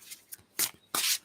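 A few soft, papery bursts of a deck of tarot cards being shuffled, close by, with brief pauses between riffles.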